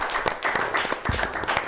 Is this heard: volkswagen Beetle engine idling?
no